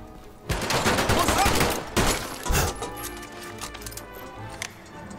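Shotgun fire in the WW2 shooter Medal of Honor VR: a few loud, close, booming blasts in the first half, each with a decaying tail, followed by quieter scattered battle noise.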